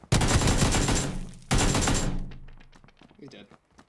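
Pistol gunfire in a multiplayer shooter video game comes as two loud, dense bursts of rapid shots close by, each cut off abruptly, then quieter clatter as the sound fades.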